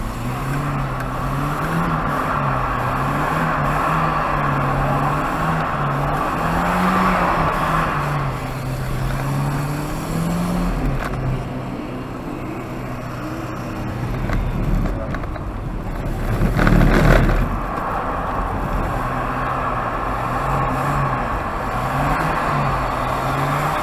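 A Volvo 940 drifts around the track at Arena Essex, its engine droning and rising and falling with wind buffeting the microphone, then a louder rough burst near the end.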